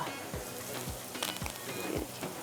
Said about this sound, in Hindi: खिचड़ी पे जा रहा है तड़का